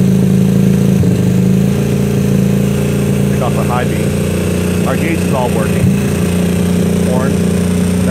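A GY6 scooter engine with a Ban Jing CDI runs steadily at a loud, even idle with a low droning hum throughout, while a person talks over it.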